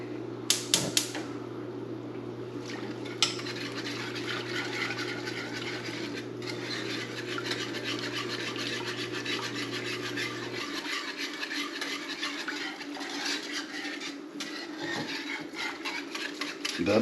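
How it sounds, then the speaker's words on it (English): Homemade BBQ sauce with a few dashes of Worcestershire being stirred, a continuous close scraping and tapping rhythm of a utensil against the pot, with a steady low hum that cuts out partway through. "Stir it together."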